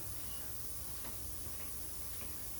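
PB Blaster penetrating oil sprayed from an aerosol can onto the tie rod lock nut of a 2012 Chevy Malibu, a steady, close hiss that runs unbroken for a couple of seconds with no talking.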